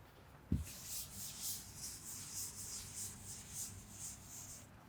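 Writing is rubbed off a classroom board with steady back-and-forth scrubbing strokes, close and fairly loud, lasting several seconds after a single knock at the start.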